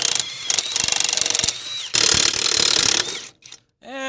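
A power tool cuts off a seized lug stud on a Lippert trailer axle in loud, rattling bursts with a squealing edge, stopping and starting before falling quiet.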